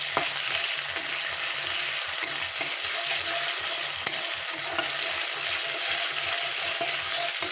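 Ginger garlic paste frying in hot oil, a steady close sizzle with occasional stirring scrapes and taps against the pan.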